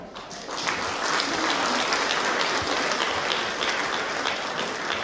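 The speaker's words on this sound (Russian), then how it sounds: "под ваши бурные аплодисменты." Enthusiastic audience applause at an anniversary concert fills the space, a dense, steady roar of many hands clapping that builds quickly and holds strong throughout.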